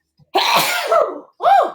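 A person sneezes close by, a loud sharp burst followed by a second shorter sneeze-like gasp after a brief pause, with no talking.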